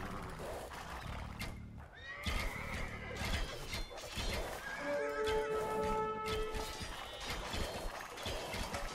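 Cavalry horses in the Genghis Khan video game neigh and whinny loudly amid clip-clopping hooves and clashing battle noise, with several overlapping calls through the busy mix.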